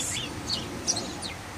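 Small birds chirp outdoors, with several short, high tweets scattered at a moderate distance over a steady, soft background hum.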